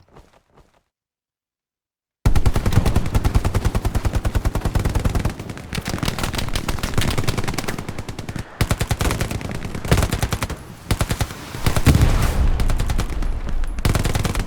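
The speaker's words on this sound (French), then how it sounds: "je prends des balles dans le dos" Heavy gunfire in the WWII shooter Hell Let Loose on the Utah map, with dense, loud automatic bursts and volleys running almost continuously after a short quiet opening, broken only by brief gaps.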